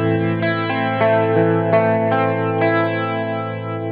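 Electric guitar played through a Headrush pedal emulation into a stock Fender Twin amp, picking a steady sequence of sustained chords with distinct note attacks roughly every half second, with a chorus-like, slightly distorted tone and no talk.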